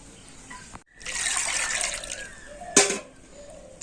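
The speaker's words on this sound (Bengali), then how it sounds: "জল দিয়ে ভালো করে ধুয়ে ধুয়ে নিতে হবে হাত দিয়ে এইভাবে একটু নাড়িয়ে চাড়িয়ে দেবো" Grated raw potato is washed by hand in a bowl of water to make homemade cornflour, with close sloshing, swirling and trickling water and a brief louder splash near the end.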